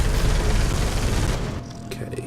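Twin assault cannon firing in Space Hulk Deathwing: a loud, dense rapid-fire barrage with heavy low rumble, sustained for over a second before cutting off into quieter mechanical clanks and faint clinks.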